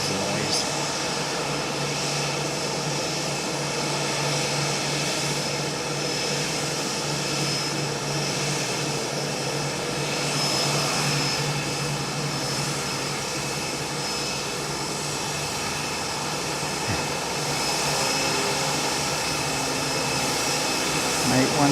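An aircraft arriving at Nagasaki Airport gives a steady, loud engine roar that holds for the whole stretch, with a low droning hum running underneath. A person talks now and then over the noise.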